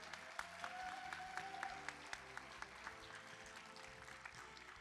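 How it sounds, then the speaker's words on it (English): Audience applause at an evening youth and young adults awards ceremony, a steady wash of many hands clapping at moderate distance, fairly quiet and even throughout, with a faint tone sliding across early on. "Can we give them another round of applause?"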